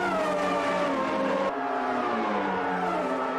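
A Formula One car in Automobilista 2 at Interlagos accelerates hard out of the final corner, its high engine note rising steadily and loud, with a quick gear change midway and no voices.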